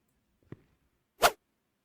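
Two short swishing releases of arrows being shot in the video game The Lost Detective: a faint brief one, then a louder, fuller whoosh about three-quarters of a second later, with no talk around them.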